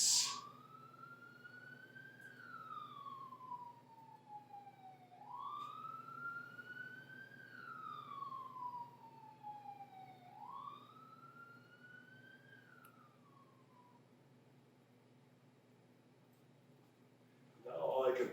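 A wailing emergency vehicle siren rises and falls in slow sweeping cycles, faint and distant, fading out gradually with brief noises at the start and end.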